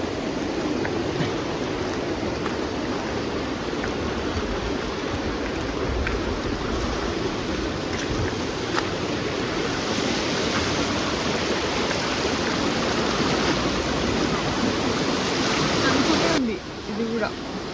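Steady rushing of water flowing through the Telugu Ganga canal near its gates in Nandyal, a continuous broadband wash close by that holds level throughout, dipping briefly near the end.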